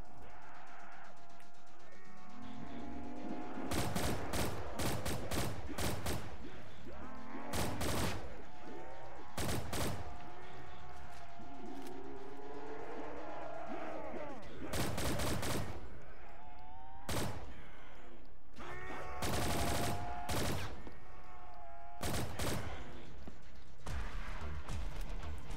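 MP40 submachine gun fire in a Roblox game, several loud, rapid automatic bursts separated by pauses, heard alongside tonal game music and effects, up close and dominant.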